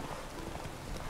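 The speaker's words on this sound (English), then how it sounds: "Well, look at that horse over there." Rapid hoofbeats of a riderless horse galloping along a race track in The Witcher 3, a quick, rhythmic drumming heard faintly beneath wind-like noise.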